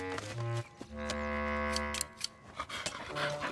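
Cartoon dogs in an animated Mr Bean episode pant in quick, breathy bursts, close and fairly loud over a bed of tonal music.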